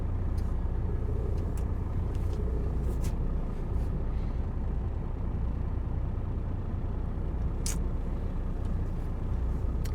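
Heavy truck engine rumbling low and steady while a lorry slowly manoeuvres to park beside others near a warehouse loading ramp, with a few faint clanks and a brief hiss over the continuous drone.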